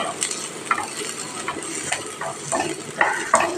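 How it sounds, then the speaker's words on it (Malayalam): Onions sauté in a pan with a soft continuous sizzle, broken by repeated scraping and clinking as a utensil stirs them at an irregular pace, close and fairly quiet. "നന്നായിട്ട് വഴറ്റിയെടുക്കാം ഇവിടെ ഉള്ളിയൊക്കെ വഴന്നിട്ടുണ്ട്"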